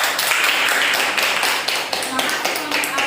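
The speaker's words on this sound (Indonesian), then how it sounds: "Beri tepuk tangan untuk kelompok A" Students in a classroom clap for a group in a short, fairly loud burst of brisk, overlapping hand claps, with chatter underneath.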